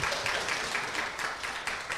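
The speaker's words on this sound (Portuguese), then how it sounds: "Palmas, gente, porque uma resposta dessa..." An audience at an educators' meeting claps, a steady dense round of applause heard throughout.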